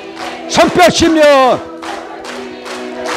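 A church congregation claps along while singing praise at a healing revival service in Hawaii. A sung phrase rings out first, then several soft, reverberant claps land at a steady beat.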